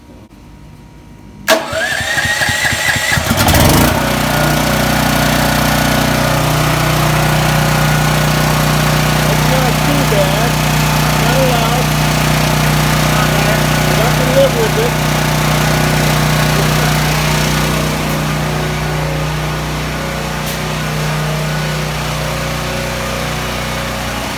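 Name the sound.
Champion 10,000 watt dual fuel generator running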